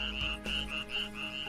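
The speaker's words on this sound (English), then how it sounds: "At nights, we listen to the chorus of frogs and other animals around the pool." Frogs croak around a pool at night, a steady layered chorus with repeating pulses and a continuous drone underneath, fairly close.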